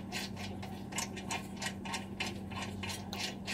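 Socket ratchet tightening caliper bracket bolts on a 2010 Toyota Yaris during front brake work, a steady run of quick clicking strokes, close and clear, with no voices.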